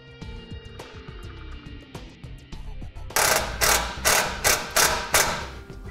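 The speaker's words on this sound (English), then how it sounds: "go ahead and loosen up our original ground screw and add our white wire to it" A ground screw on a 2008 Jeep Liberty is loosened, probably with a ratchet, giving a close series of sharp, evenly spaced clicking bursts after softer tapping and handling noises.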